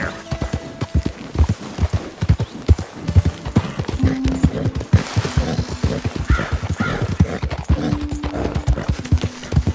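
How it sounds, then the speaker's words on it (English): In Red Dead Redemption 2, a wild horse gallops with rapid, rhythmic hoof clip-clops that are loud and close, occasional neighing sounds mixed in over about ten seconds. "Esse é o cavalo selvagem aí, né, galera?"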